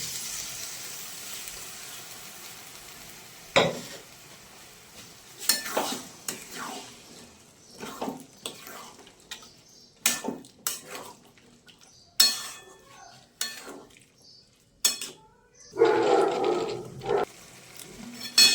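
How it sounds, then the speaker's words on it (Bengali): Boiled chickpeas tipped into a spice masala in a pan and stirred, intermittent clinks and scrapes of a spoon against the pot over a faint sizzle, close, with quiet gaps between strokes. "এবার ছোলাটা দিয়ে দেবো মশলার মধ্যে।"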